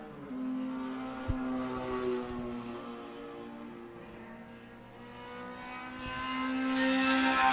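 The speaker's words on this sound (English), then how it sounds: "there's your race leaders coming across the start-finish line again" Race cars in an SCCA Cal Club Group 3 race at Buttonwillow cross the start-finish line, their engines droning and revving at a distance, with one quieter pass followed by a louder approach building toward the end.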